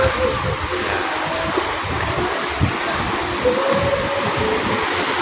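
Storm-driven sea waves in Manila Bay wash and churn in a continuous broadband roar mixed with gusting wind, close and steady with no clear pauses.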